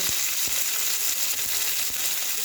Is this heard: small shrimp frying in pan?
yes